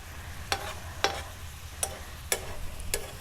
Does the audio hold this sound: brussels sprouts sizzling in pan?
yes